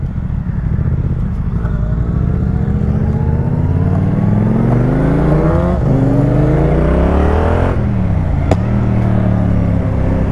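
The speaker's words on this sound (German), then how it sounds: "wie der Auspuff knallt" Yamaha MT-07 motorcycle accelerating through the gears, loud and close, with engine pitch climbing repeatedly and a sharp exhaust pop near the end.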